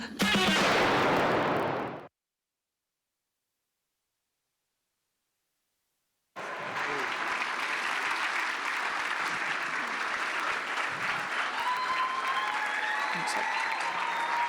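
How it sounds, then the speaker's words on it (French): An audience at a handmade cosplay contest at a Japan convention claps loudly for about two seconds. After a silent gap, a long stretch of busy, steady sound follows with music or crowd noise mixed in. "Bravo, bravo, on peut encore les applaudir bien fort."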